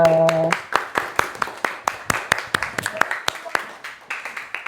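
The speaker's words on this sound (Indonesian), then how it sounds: "beri tepuk tangan untuk semuanya" Students in a classroom clap in a rapid, rhythmic series of sharp hand claps at close range after a teacher's spoken prompt at the start.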